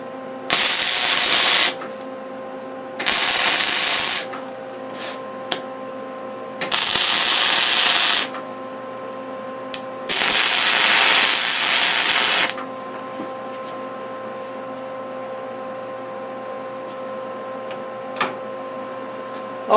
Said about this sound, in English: Okay, let's weld this on here.